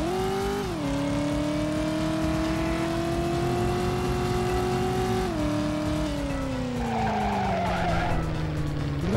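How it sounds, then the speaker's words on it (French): Cars in the PS1 video game Driver, set in Miami, skid with long sustained tire squeals over a loud engine drone, the pitch sliding and stepping as the car slides and accelerates, continuous and up close. "Je trouve que les voitures patinent derrière."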